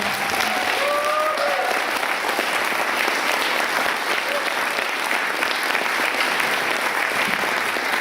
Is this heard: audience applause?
yes